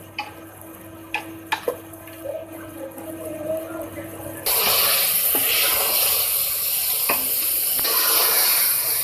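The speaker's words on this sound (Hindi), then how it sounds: "अब इसमें हम पानी ऐड करेंगे" A few clinks from a pan, then water hits hot oil with frying potatoes, making a sudden loud sizzle and hiss that continues steadily, with occasional stirring knocks.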